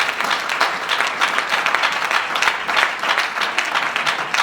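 A church congregation at a fasting and prayer gathering claps and applauds in a dense, sustained burst of hand claps that fills the space without pause.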